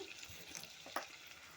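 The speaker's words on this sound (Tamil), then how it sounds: "ஆயில் ஊற்றிட்டு தக்காளி, வெங்காயம், பூண்டு, இஞ்சி இதெல்லாம் போட்டு நல்லா வணக்கணும்" Tomato, onion, garlic and ginger sauté in hot oil for a mutton masala, giving a soft, steady sizzle with a few brief stirring scrapes, quiet and close, no voices.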